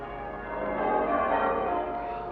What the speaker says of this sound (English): the bells of the town pealing out there beyond his window